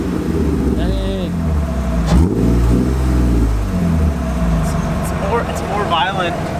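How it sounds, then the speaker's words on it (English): A BMW E36 M3 engine revs in a parking lot, rising into a loud, aggressive climb and falling back, heard close up, with voices talking over the engine. "Did I rev? I guess he's gonna rev it."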